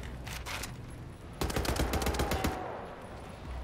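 Gunfire in the shooter game Wolfenstein The New Order, a dense rapid burst of automatic shots lasting about a second amid steady game background noise.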